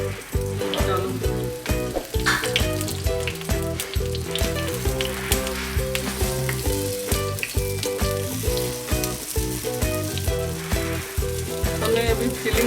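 Appe batter sizzling in hot oil with curry leaves in a paniyaram pan, a loud continuous crackle and spatter throughout with steady bubbling, no voices.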